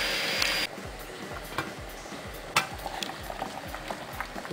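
Carp bait mix bubbling and stirring in a pot on a gas stove, a steady low simmer with soft repeated scraping taps and a brief louder hiss at the start, no talking.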